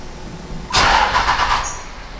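A Cummins diesel engine with a straight-pipe exhaust cranks and fires into a loud, rough idle. The close burst of rumble rings on for over a second before settling slightly, with no talking.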